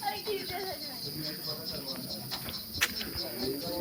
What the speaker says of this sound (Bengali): এখানে এই সময়টা দেখো কি ঝিঝি পোকার সাউন্ড আসছে চারিদিক দিয়ে।